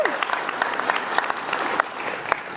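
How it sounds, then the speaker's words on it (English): Audience applause for a senator at a community ribbon-cutting event, a dense, steady round of clapping from a small crowd sustained through the whole few seconds, with a voice briefly audible. "Please join me in giving her a round of applause."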